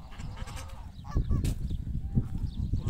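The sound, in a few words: geese honking at a duck farm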